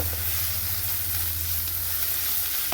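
Ground coconut paste with green chilli and cumin hits a hot pan, giving a loud, steady, close sizzle throughout with no talking.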